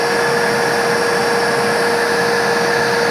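A homemade bee vacuum runs steadily, giving a loud, constant motor whine with a strong tonal hum and airy suction rush that holds unchanged from start to finish.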